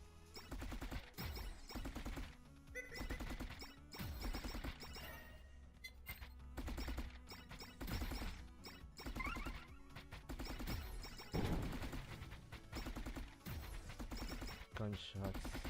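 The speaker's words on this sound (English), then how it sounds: "Gunshots." Video game gunfire crackles in dense, rapid bursts, a loud and nearly continuous barrage with crashing impacts mixed through it.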